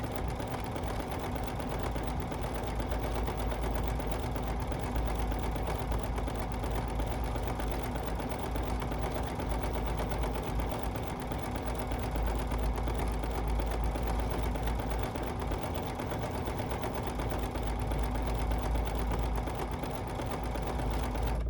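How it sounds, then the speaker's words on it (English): A BERNINA sewing machine runs in multi-directional mode, stitching sideways with a steady, quiet, unbroken mechanical hum and fine needle whir throughout. "Maybe we go sew those sideways, see how they look."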